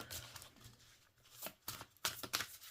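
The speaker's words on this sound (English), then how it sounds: "Overhand shuffle. I'm not doing the riffle shuffle." Soft overhand shuffling of a tarot deck, quiet papery riffles and taps coming in irregular bursts, close by and faint.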